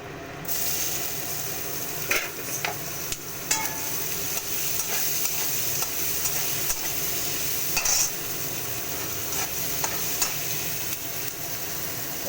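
Whole spices, fenugreek seeds, whole garam masala and bay leaf, sizzle steadily in hot oil, a close continuous fry with occasional scraping stirs and light clinks; no talking.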